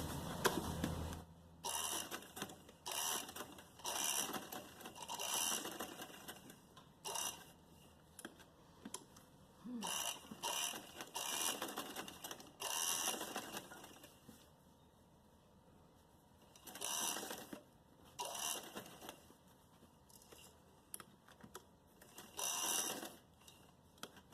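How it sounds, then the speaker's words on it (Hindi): A sewing machine runs in bursts of straight stitching along a kurti neckline, rapid quiet ticking runs separated by pauses, close and fairly faint, no voices. "अब यहाँ से सीधी सिलाई होगी।"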